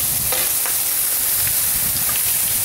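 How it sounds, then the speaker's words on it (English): Mushrooms and potatoes sauteing on a 17-inch Blackstone propane griddle give a loud, dense, continuous sizzle and hiss, close up, with a few faint scraping touches. "this is mushrooms and potatoes right here. Have them cooking up right there."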